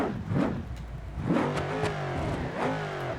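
A supercharged car engine in the video game BeamNG.drive revs up and down in repeated surges, a loud mid-pitched roar with rising whine, steady and close throughout.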